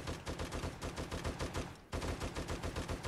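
Rapid automatic gunfire from an anime-style gun in the video game 7 Days to Die, a loud, dense stream of shots that breaks off for a moment and then resumes, with no voices.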